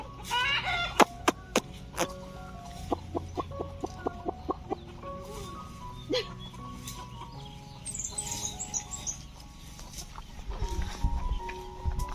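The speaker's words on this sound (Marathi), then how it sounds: "सगळ्या कोंबड्या पसरल्या." Several chickens cluck in quick repeated bursts nearby, with rustling and faint background noise between the calls.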